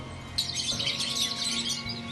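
Many parrots chirping and calling together in a large bird shop in Adelaide, a dense overlapping chatter of bright tweets filling the space without pause.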